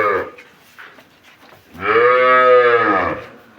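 A Jersey-cross dairy cow at a Bangladeshi cattle market lets out one long, loud, drawn-out moo in the middle of the clip, preceded by faint background sounds.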